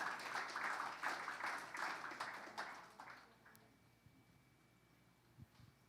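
A church congregation claps together in praise, a dense run of applause for about three seconds that thins out and fades to quiet with a few stray claps.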